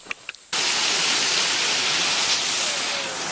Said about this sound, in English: We've arrived at the sacred waterfall.